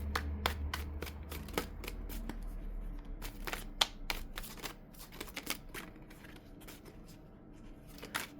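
Cards drawn from a pre-shuffled tarot deck for a love reading, heard as rapid, close, dry ticks and flicks of card edges, dense at first and thinning toward the end, with no speech.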